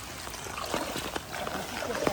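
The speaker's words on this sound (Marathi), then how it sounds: "आज पडत्या पावसामध्ये आलेलो आहेत आम्ही" Water trickles and splashes under a rainy hiss outdoors in Trombay Koliwada, Mumbai, with scattered drips and spatters close by; a voice is faintly present.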